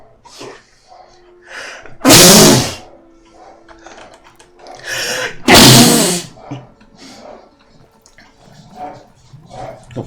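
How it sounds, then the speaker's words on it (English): Two loud, explosive human sneezes burst out a few seconds apart, standing well above quieter background game sounds and faint talk. "Every time I sneeze like that, I'm always a bit concerned."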